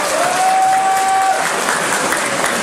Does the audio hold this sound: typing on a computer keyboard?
no